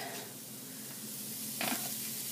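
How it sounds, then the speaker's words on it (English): Vegetables and garlic sizzle quietly and steadily in a hot pan, with a brief scraping stir near the end. "As you can hear, I already have some sizzling action going on"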